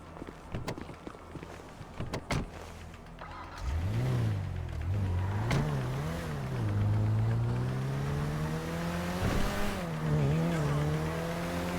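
A car driven in Grand Theft Auto V: a few clicks and thumps, then the engine starts and revs, its pitch rising and falling through gear changes as it accelerates, loud and steady.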